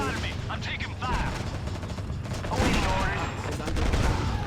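Dense bursts of gunfire and fusillade during an Act of War: High Treason battle, with enemy infantry and an incoming air raid, crackling continuously and loudly amid mechanical battle noise.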